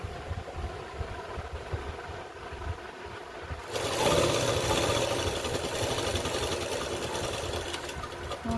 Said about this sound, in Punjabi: ਦੋਨੇ ਸਾਈਡਾਂ ਤੋਂ ਆਸਨ ਤੋਂ ਆਪਾਂ ਇਸੇ ਤਰ੍ਹਾਂ ਹੀ ਸਲਾਈ ਲਗਾਣੀ ਆ